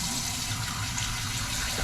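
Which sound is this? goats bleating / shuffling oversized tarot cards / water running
water running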